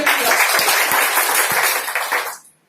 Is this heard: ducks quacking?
no